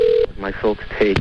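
Short electronic caller ID tones beep several times on an emergency call, mixed with a voice speaking briefly over a phone line.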